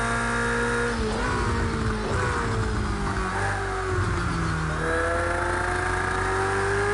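A Ferrari race car engine in Project Cars 2 during an endurance race at Donington, revving continuously with rising and falling pitch sweeps through gear changes, loud and steady with no talk.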